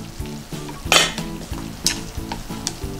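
Broccoli steamed over low heat in a covered pan for about eight minutes, then the lid lifted: soft sizzling and bubbling with a few clinks of the lid and pan, close and fairly quiet.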